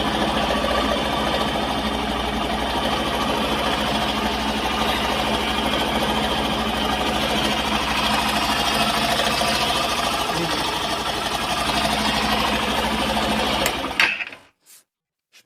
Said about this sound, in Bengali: তো বাইক স্টার্ট হয়ে গেছে গাইজ